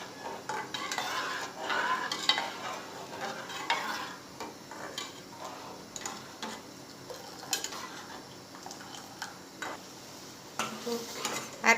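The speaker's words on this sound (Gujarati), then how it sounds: "હવે આ રીતે ચલાવીને જ ઉકાળવાનું" Masala tea with milk is stirred in a pot as it comes to the boil, heard as quiet, uneven scraping and clinking of a spoon against metal over a soft bubbling background, with no talking.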